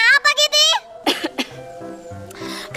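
A cartoon cat coughs in a short run of harsh, rapid hacking bursts, close and loud, followed by clearing and then a child-like voice talking over light background music.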